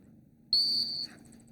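A single sharp, high-pitched handler's whistle blast at a Missoula, Montana retriever trial, held for about half a second and then tapering off, over quiet outdoor background.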